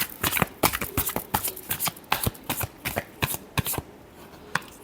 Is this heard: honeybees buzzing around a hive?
no